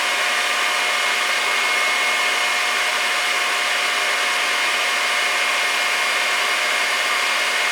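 An electric mixer whips egg whites with sugar until they are nearly stiff. It gives a loud, steady, unbroken whir for the whole stretch, close up, with no speech.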